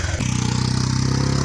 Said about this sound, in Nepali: हाम्रो राइडर चाहिँ मोटरसाइकल कुदाउँदै हुनुहुन्छ।